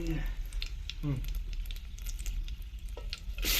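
Bay leaves crackling in hot oil for chicken pulao, a close, dense sizzle with brief crackles and a couple of short voice sounds over it.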